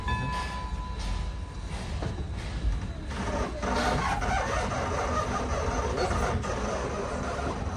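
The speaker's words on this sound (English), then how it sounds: "Darn freight train." A freight train rumbles steadily past at a heritage railroad site, a continuous loud mix of rolling wheels and rattling cars with no pauses.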